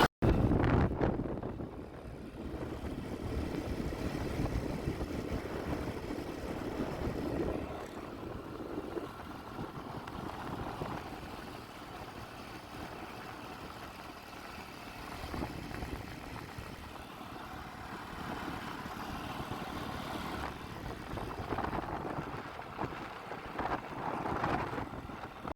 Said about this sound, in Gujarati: ચલો ફાઇનલી નીકળી ગયા બાઇક ઉપર.